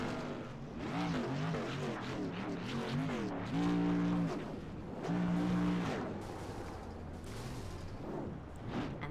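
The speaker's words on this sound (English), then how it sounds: "Well-deserved burnout for that number 54 machine." A modified race car roars through a victory burnout at North Wilkesboro speedway, with rising and falling engine revs and tire squeal and a steady loud rumble, heard from a distance.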